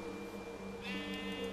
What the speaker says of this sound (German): oh, gelbe Schaf.